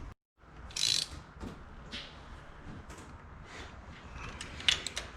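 A hose clamp on the upper coolant neck of an 8th-gen Honda Civic Si is snugged down with a ratcheting tool, giving quiet, irregular clicks and small metallic scrapes up close in a hushed garage.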